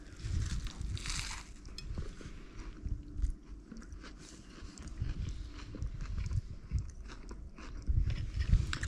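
Close, loud crunching and chewing of crispy cooked snapper, steady bites and mastication with no talking.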